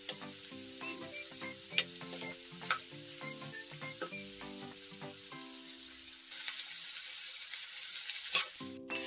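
Spring onion stalks fry in hot oil, a steady close sizzle broken by repeated scraping stirs and the clatter of a lid, with a louder hiss near the end and no talking.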